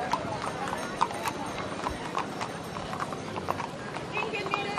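Horses' hooves clip-clop steadily on pavement in a parade marking the 1050th anniversary of Rieder. The hoofbeats are close and rhythmic, with a busy crowd and voices talking underneath.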